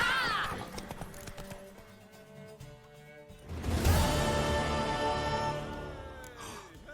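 Horse galloping in The Witcher 3 video game, rapid hoofbeats under in-game music and effects, with a rider urging the mare on and a swell of sound midway.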